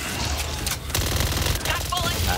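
Rapid automatic gunfire from a weapon in the zombie shooter game Back 4 Blood, a dense continuous burst of shots with a little chatter over the top.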